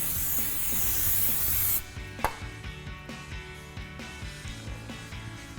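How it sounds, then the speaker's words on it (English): Brake cleaner sprays in a loud hissing burst onto a brake rotor for almost two seconds, followed by a sharp tap and quieter knocks and handling sounds, with no talking. "give it a quick cleaning with some brake cleaner"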